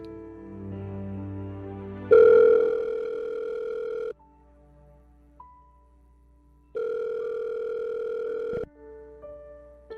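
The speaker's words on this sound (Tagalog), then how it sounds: "Tawagan na kita para magkali naman na" A telephone ringback tone while a call is placed, sounding as two long, steady electronic tones separated by a pause, clear and alone with no talk.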